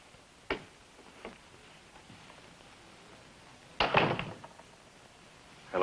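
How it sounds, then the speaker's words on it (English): A door in a Western-set drama opens with a sharp click of the latch, then a louder creak and rattle a few seconds later, with faint room tone in between and another knock-like sound at the end. "The door's open."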